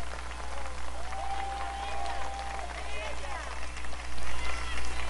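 Applause from a concert audience at La Casona Aquiles Nazoa, a steady wash of clapping that swells louder near the end, with a voice speaking over it.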